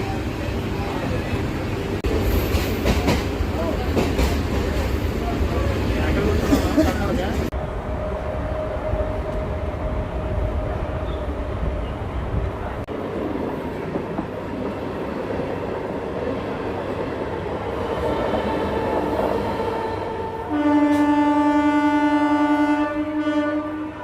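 MEMU passenger train running between Vijayawada and Narasapuram, a steady rumble of rails throughout, growing louder toward the end with a sustained horn-like tone, and voices talking faintly at times.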